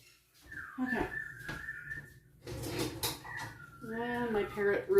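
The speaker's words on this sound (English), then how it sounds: "And my parrot Ruby is going off in the next room. She's whistling away" A parrot in the next room whistles in long tonal notes and warbling calls, moderately loud, mixed with voice-like sounds and household clatter.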